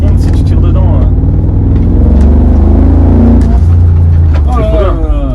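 Mercedes G55 AMG accelerating, a loud, close engine roar that builds and swells while people talk excitedly over it.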